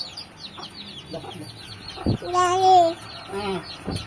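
Hens cluck close by in a farmyard, with a run of short clucks and a longer rising call in the middle, and faint voices in the background.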